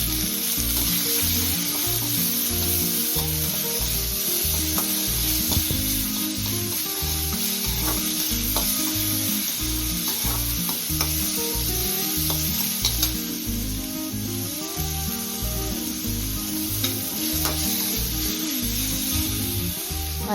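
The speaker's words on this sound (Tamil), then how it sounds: "வெங்காயம் வதங்கிடுச்சு, பாதி தக்காளி ஆட் பண்ணுறேன்." Onions and half a tomato sautéing in a pan for Tamil-style fish kulambu, a steady close sizzle of frying with stirring and scraping running throughout, no talking.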